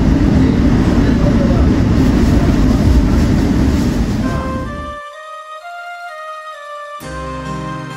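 A loud, steady rumble of a train passing nearby at Kroya station, the Mutiara Selatan, which cuts off abruptly and leaves a quieter tonal hum before the noise returns.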